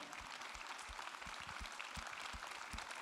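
Audience in a hall at a Banque Populaire Val-de-France general assembly in Châteauroux, applauding young talents who stand up; faint, steady, dense clapping throughout.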